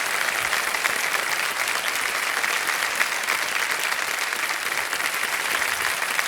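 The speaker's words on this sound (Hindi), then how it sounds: "हर तालियां बज जाएं जोरदार इनके लिए" Loud, dense studio audience applause on a TV quiz show as a contestant wins 3,20,000 rupees, a continuous roar of clapping from start to finish.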